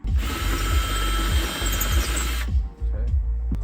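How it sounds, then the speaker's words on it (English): A power drill drilling 1/4 inch pilot holes whirs loudly and steadily for a couple of seconds, then cuts out, leaving a low mechanical rumble. "it wants you to drill 1/4 inch pilot holes"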